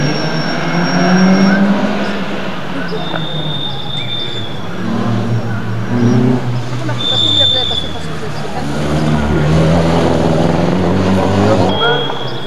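A loud, strictly stock production rally car at a 1991 car race in Villeneuve-sur-Lot roars and revs nearby, pitch rising and falling as it drives past, with a voice talking over the racket throughout.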